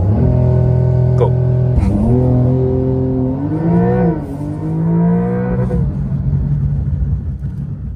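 A Porsche makes a launch start on a Shanghai driving circuit, its engine roaring loud and close and climbing in pitch through several gear changes while it accelerates hard. No one speaks.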